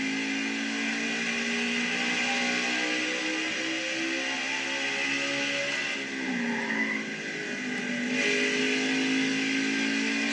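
A stock car engine in NASCAR Heat 5 at Richmond, a continuous high revving drone that holds steady, dips briefly as the car comes off a turn, then climbs again, loud and close with no talk.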